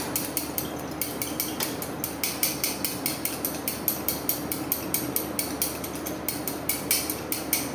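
Sanding sugar stirred with gel food dye in a bowl, with a fast, even run of scraping clicks from the utensil against the bowl, close and fairly loud.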